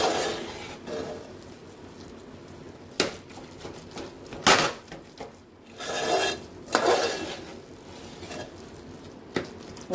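Metal spoon scraping, pressing and stirring egg bhurji in a pan, close rasping strokes and occasional sharper clinks against the pan at an uneven pace.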